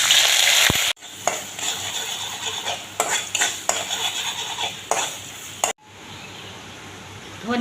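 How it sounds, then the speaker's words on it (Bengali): Chopped onion and garlic hit hot mustard oil with a loud burst of sizzling frying, broken by the scrape and clatter of a utensil stirring in the pan, with brief sharp clicks and a quieter hiss near the end. "তেল গরম হয়ে গেছে, এবার আমি পেঁয়াজ কুচি আর রসুন কুচি দিয়ে দিচ্ছি।"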